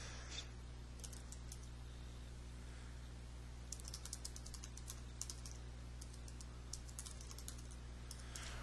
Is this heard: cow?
no